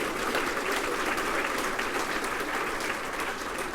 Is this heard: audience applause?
yes